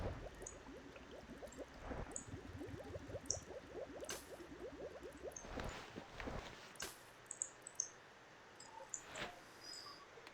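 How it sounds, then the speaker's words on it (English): Tea and water are sipped and swallowed close to the microphone, making a quick run of soft, rhythmic gulping and slurping sounds, then a few wet clicks and drips over faint background noise. "Sorry if you hear the sound in the background, I'm just drinking some tea and water."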